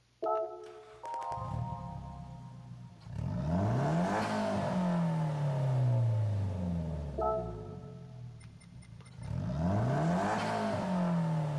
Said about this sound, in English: we're going to listen to the startup sound